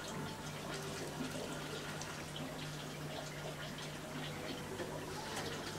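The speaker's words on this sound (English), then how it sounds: "Just pour it into a container like this." Drained aquarium water from a foam-box Danio breeding setup pours steadily into a container, a faint continuous trickle and splash with no speech.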